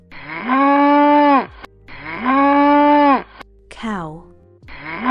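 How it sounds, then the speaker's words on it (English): A cow moos loudly and close by: two long, level moos, then a shorter falling one, and the start of another, with brief pauses between. "Cow."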